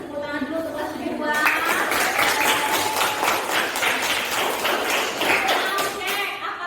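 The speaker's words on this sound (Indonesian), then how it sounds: "Kasih tepuk tangan dulu untuk kelas 72." A classroom of students applauds together in a dense burst of clapping lasting several seconds, fairly close, with a teacher's voice speaking briefly before it begins.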